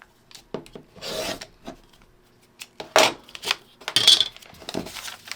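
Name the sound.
trimming quarter-inch seam allowance in quilt paper piecing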